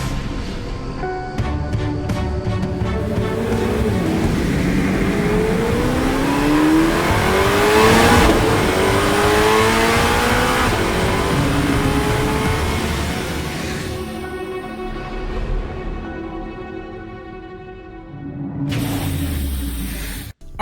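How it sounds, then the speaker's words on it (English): A Chevrolet Corvette C8 ZR1 engine revs hard and continuously, with rising and falling tones, a loud hissing roar throughout, and a sharp rev burst just before an abrupt stop. "GM just dropped another teaser video on the upcoming ZR1 that gives us probably the best idea of how this new Z8 is going to sound"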